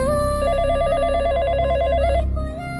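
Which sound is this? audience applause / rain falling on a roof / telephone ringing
telephone ringing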